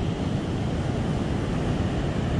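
Ocean surf at Lagodi beach in south-west Nias, Indonesia, a dense continuous roar of big waves with wind buffeting the microphone, no voices.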